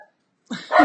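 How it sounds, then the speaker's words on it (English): A puppy indoors barks close by, a couple of short yaps rising out of silence after a brief faint sound at the start, with no talking over it. "Puppy's barking."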